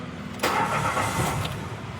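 A Mitsubishi Mirage G4 with a rough idle, RPM drop and vibration cranks and catches, then settles into a close, steady idle that sounds slightly uneven.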